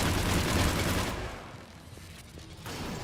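Gunfire aimed at a missile in Mass Effect, a dense, loud burst of rapid shots that fades after about a second into quieter rattling, then picks up again near the end.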